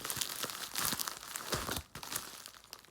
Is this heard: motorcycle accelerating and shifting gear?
no